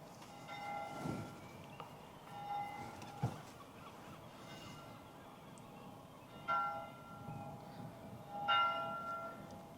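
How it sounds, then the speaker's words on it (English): Church bells ringing in Portugal, several separate resonant strikes with lingering tones spaced irregularly, fairly distant and faint over a low background rumble. "obviously you can hear the bells ringing"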